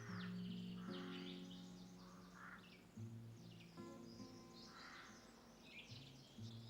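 Small birds such as sparrows, finches and a yellowhammer chirp and call in winter, a faint scatter of overlapping tweets and short phrases over a low steady hum.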